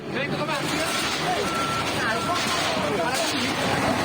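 Heavy equipment demolishing houses at a fire scene gives off repeated reversing beeps under a constant rumble of engines and crowd noise, with people talking throughout.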